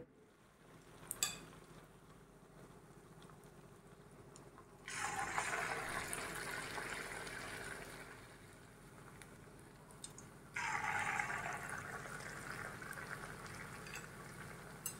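Urad dal vada batter dropped into hot oil, bursting into loud crackling sizzle that fades, then surges again as a second portion goes in, after a quiet start with a small clink.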